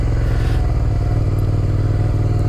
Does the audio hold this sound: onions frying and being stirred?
no